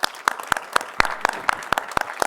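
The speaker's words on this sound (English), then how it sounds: "So can we please give a round of applause till she makes her way to the stage?" An audience applauds at an ICT summit prize-giving as a winner walks to the stage, a moderate crowd clapping with distinct loud individual claps close by, continuous throughout.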